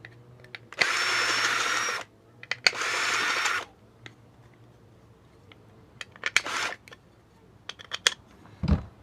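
A power drill boring holes in a GSX-R K2 race bike part, with two sustained bursts of drilling of roughly a second each, followed by scattered clicks and handling knocks.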